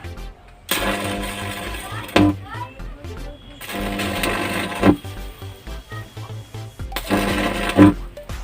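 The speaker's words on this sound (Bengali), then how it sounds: "এটা 10 নম্বর ওয়েল্ডিং রড, মোটা যেটা গ্রিলের জন্য যেটা ব্যবহার করা হয় সেটাই ওয়েল্ডিং হচ্ছে" Arc welding with a thick no. 10 rod powered directly from AC mains for grille work, giving loud bursts of harsh buzzing crackle in three separate runs with quiet gaps between them.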